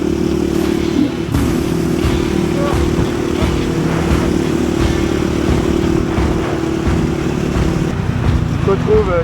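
A rally motorcycle ridden along a roadbook course, with a steady, loud engine drone throughout and clattering and bumps over the terrain.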